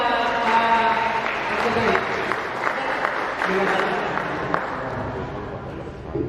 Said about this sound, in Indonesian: Aplaus Bapak Ibu buat